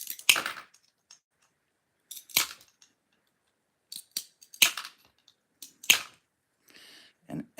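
Sharp crunching snaps of glass being nibbled into a leaf shape with a hand tool, close and intermittent, with irregular bursts separated by silent pauses.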